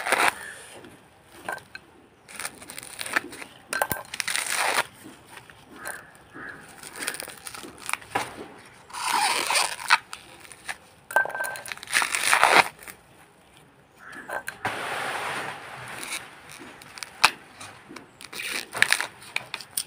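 A coconut being husked by hand, its fibrous shell torn and pried away in repeated rough crunching, ripping bursts with short pauses between pulls, close and fairly loud, with no talking.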